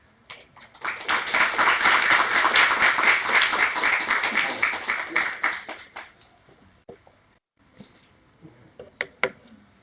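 Audience applause at a national workshop after a talk, building quickly to a full, steady round of clapping, then thinning out into scattered claps after about six seconds, with a few last isolated claps near the end.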